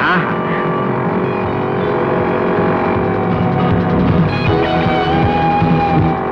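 Car driving at speed, a constant loud engine and road roar with a steady droning tone throughout, close and unbroken, with no talk audible over it.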